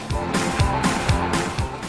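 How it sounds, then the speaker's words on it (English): A Volkswagen Touareg SUV drives off-road with a loud, rumbling engine that swells and eases in repeated surges, paired with broadband road or terrain noise throughout. "The new Touareg is a treat to drive, especially off the beaten track."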